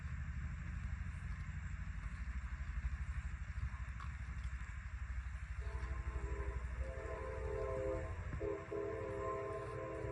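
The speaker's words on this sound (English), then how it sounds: "And there's the train." A train rumbles past with a steady rolling clatter, then its horn blows in long sustained blasts during the second half.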